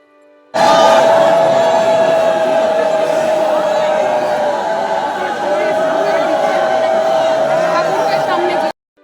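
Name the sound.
temple crowd with ululation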